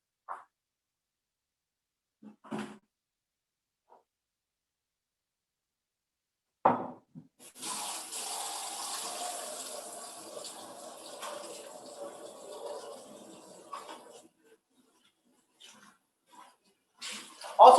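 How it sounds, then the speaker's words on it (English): A kitchen tap runs while hands are washed, a steady splashing stream lasting several seconds, preceded and followed by brief clinks and handling sounds, fairly close. "let me wash my hands"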